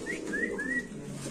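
A pigeon gives faint, brief calls, two or three short rising tones in quick succession, against a low steady background with no talking.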